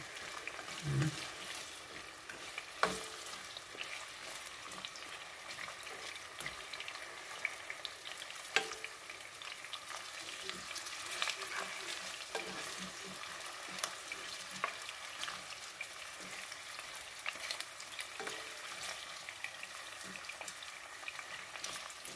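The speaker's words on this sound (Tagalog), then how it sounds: "Piprituhin muna natin yung isda bago natin iluto as a puchero." Fish fries in a pan before going into a fish puchero, a steady low crackling sizzle with occasional louder pops, continuous and close throughout.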